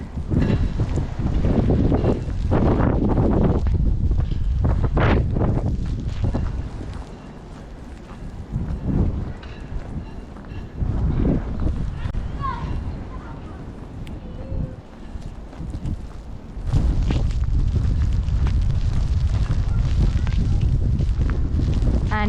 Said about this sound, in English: And it is getting windy.